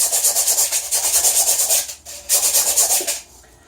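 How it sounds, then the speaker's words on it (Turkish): Rhythmic scratchy rubbing of sandpaper on a coconut shell, quick back-and-forth strokes in two bursts with a short pause between, close and fairly loud. "Şimdi zımparamı aldım ve artık parlatmaya başlıyorum zımpara ile."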